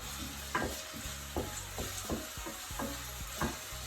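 Onion softening in a pan for a Tunisian chicken tajine, a steady close sizzle broken by repeated scraping stirs of a utensil roughly every half second to second, with no talk.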